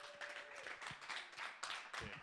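A stand-up comedy audience claps for a comedian leaving the stage, scattered hand claps building into a short burst of applause with faint voices mixed in.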